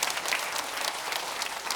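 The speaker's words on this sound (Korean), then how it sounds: "우리 시온 찬양대에게도 한번 박수해 주시면 좋겠습니다" Dense, steady applause from a church congregation for the Zion choir during a Sunday morning worship service, many hands clapping at once, close and continuous with no talk over it.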